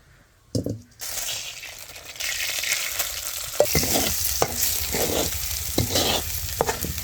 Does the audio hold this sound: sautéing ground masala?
yes